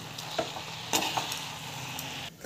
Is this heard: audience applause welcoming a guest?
no